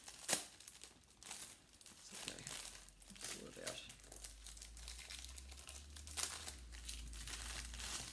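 Plastic packaging from a diamond painting kit crinkles and rips as it is opened, close and continuous rustling and tearing while a person talks over it.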